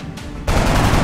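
Rifle gunfire in the tactical video game XCOM: a brief quiet moment, then a sudden loud, dense burst of shots that sustains to the end.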